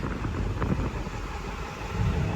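A 2001 Ford Excursion Limited with a 7.3L Powerstroke diesel, lifted 4WD, idling steadily with a low, even rumble close by, no voices over it.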